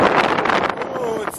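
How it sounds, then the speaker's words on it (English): Wind blows outdoors in Denver, buffeting the microphone with a loud, brief, steady rushing roar. "Oh, it's so windy."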